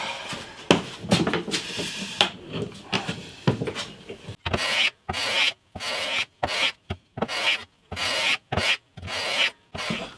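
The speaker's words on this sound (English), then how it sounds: "that's taken quite a bit more planing to get that down to size" A hand plane shaves down a bass guitar neck, with scattered scuffs and handling noises, then a series of about nine sharp, regular planing strokes, each a loud, close rasp separated by short silences.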